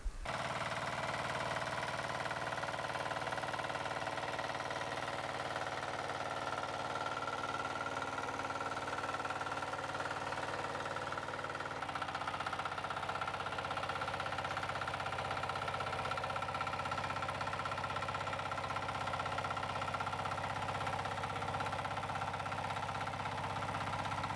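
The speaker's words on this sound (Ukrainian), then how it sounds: "покажу, як вона тепер нормально копає після переробок" Tractor-driven potato digger, modified for better digging, running in a vegetable garden: a steady, loud mechanical engine drone with knocking and vibrating clatter, continuous throughout with no speech.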